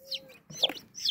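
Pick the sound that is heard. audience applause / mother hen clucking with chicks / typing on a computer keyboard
mother hen clucking with chicks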